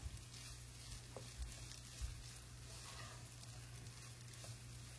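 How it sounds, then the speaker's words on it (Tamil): Onions and pepper frying in ghee give a low, steady sizzle with faint crackle, quiet and continuous for the whole stretch, with no voices. "நல்லா வந்து நெய்யில் வந்து வெங்காயத்தையும் பெப்பரையும் நல்லா ஃப்ரை பண்ணிவிட்டு"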